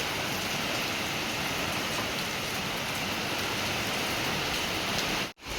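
Heavy rain pours steadily close by, a dense, even roar of drops on surfaces that holds at one loud level until a sudden break just before the end.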